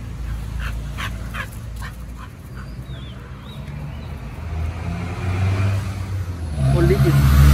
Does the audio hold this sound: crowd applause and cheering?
no